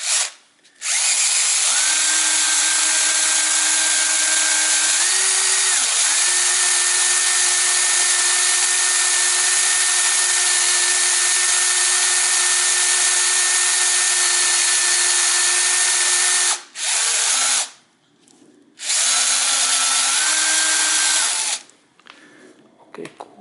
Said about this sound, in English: Oil in there, and then drilling again.